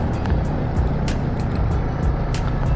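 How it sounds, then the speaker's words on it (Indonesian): A passing vehicle overtakes on a rural road in Banyumas, Central Java, heard as a steady loud road and engine rumble with wind noise throughout, no clear peak of a pass-by. "barusan ada yang nyalip ya teman-teman"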